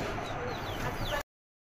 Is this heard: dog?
no